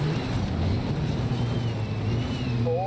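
A rally car engine in the WRC 5 racing video game drones steadily with a low, continuous rumble and broad noisy roar, steady and loud throughout.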